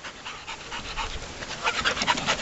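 Puppies pant rapidly and steadily at close range after a trailer ride, the quick breathy rhythm growing a little louder toward the end.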